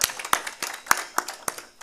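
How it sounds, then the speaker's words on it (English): Sparse, evenly spaced hand claps at a Kenya Diaspora Homecoming Convention, about six sharp claps in under two seconds, moderately close and thin, more like a few people clapping than a full crowd. "Give her a round of applause"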